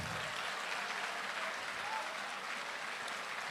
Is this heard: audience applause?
yes